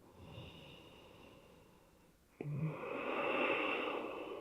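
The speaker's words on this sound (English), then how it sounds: "Breathing." Heavy breathing during a floor stretching exercise with knee twists: faint, slow inhales and exhales up close, with a louder, rougher breath swelling in partway through, no talk.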